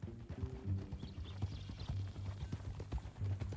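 Horse hooves clip-clopping in the western game Red Dead Redemption 2, a steady walking rhythm of distinct close hoofbeats with a low background hum and faint voices underneath.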